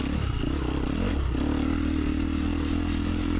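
Motorcycle engine on a cross-country race course holding a steady high-RPM drone, loud and close throughout, with a brief dip and climb in pitch near the start.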